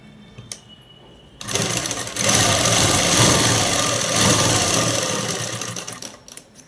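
A sewing machine stitching a collar neck, running in a fast, steady mechanical whir for several seconds after a brief quiet start, then slowing and stopping, heard close and alone.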